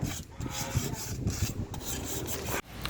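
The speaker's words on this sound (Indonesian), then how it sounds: "Amplasnya pas basah, pakai air, celupin, set. Terus kita amplas aja." Steady rasping scrub of wet sanding a motorcycle wheel rim with water, continuous back-and-forth friction with a slightly wet, gritty texture, close up and alone.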